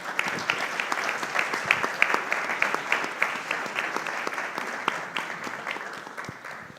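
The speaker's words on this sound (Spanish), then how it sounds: "Un fuerte aplauso para Pablo Sandoval, por favor." Audience applause at a human rights dialogue event at a memorial site, a steady wash of many hands clapping that holds for several seconds and tapers slightly toward the end, with no talk over it.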